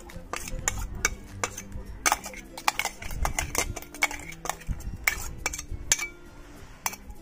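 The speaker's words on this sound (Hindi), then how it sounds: "अब हम इसको एक बाउल में निकाल लेंगे" Spice paste for cauliflower pakoras is scraped out of a mixer jar into a bowl: a spoon knocks and clinks against the jar in a quick irregular series of sharp, close taps and scrapes.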